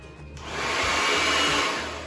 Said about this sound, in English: We're going to use a hairdryer.